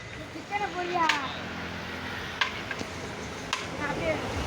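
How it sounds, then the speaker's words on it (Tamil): Chicken pieces fry in hot oil with a steady low sizzle, while occasional stirring clinks and scrapes sound close by and people talk over it. "பாரு சிக்கன்லாம் நல்லா பொரிச்சிருக்கு"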